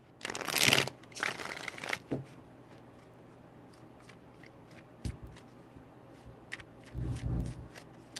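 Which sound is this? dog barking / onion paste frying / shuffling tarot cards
shuffling tarot cards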